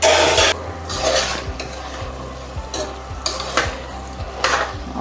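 Capsicum being stirred and fried in a pan while cooking Mysuru-style bisibelabath, with a spoon scraping and clinking against the metal in repeated strokes over a steady sizzle.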